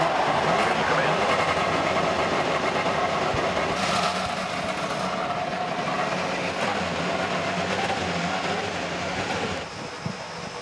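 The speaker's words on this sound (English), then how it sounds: "Drivers, start your engines." A dense, steady roar of IndyCar race car engines fires up together at the Indianapolis 500 at Indianapolis Motor Speedway, a continuous loud rumble with a voice talking over it, easing slightly near the end.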